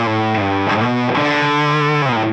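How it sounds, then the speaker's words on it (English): An electric guitar played through a Mythos Argo Octave Fuzz pedal with distortion engaged, a thick, saturated sustained tone with a few note changes, loud and continuous with no talking. "If I put the distortion on though, it seems to be achieving the effect that I want mostly."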